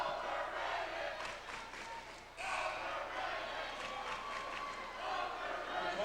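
A crowd at a high school basketball game between Valencia and Saugus keeps up a continuous roar of cheering and shouting in a gym, broad and steady, with a commentator talking over it.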